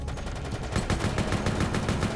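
Rapid automatic rifle fire from the game Resident Evil: Operation Raccoon City, a dense continuous stream of shots that stays loud and close for the whole short clip.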